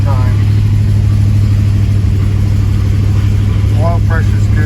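1970 Buick LeSabre engine running after a start, a loud, steady low rumble and hum that stays constant throughout, with brief squeaky chirps near the start and again toward the end.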